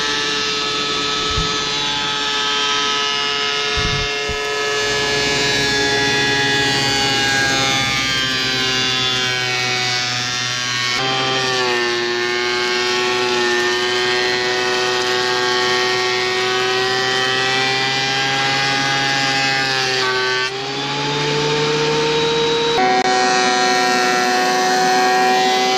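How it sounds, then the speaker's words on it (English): A thickness planer feeds plain 2x6 pine boards, a loud sustained whining drone with strong tonal harmonics that shift in pitch as boards pass through, opened by a couple of sharp knocks and ending with a brief dip between passes. "So I started by planing it, making sure these boards were nice and straight and even."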